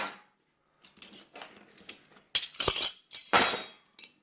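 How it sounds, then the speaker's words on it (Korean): Coins are tossed and shaken for Korean coin divination, producing bursts of metallic clinking and jangling that grow louder, with a few sharp clattering hits near the end. "오늘 요 동전으로 이 동전으로 동전점을 한번 볼까 합니다"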